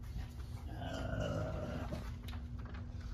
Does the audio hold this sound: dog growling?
yes